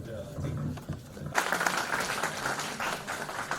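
A conference audience at a national youth event breaks into clapping after a speaker talks, dense applause rising sharply partway through and continuing steadily, with a voice speaking before it begins.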